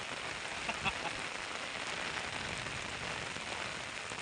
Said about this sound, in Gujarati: વરસાદ કેટલો જોરમાં ચાલુ છે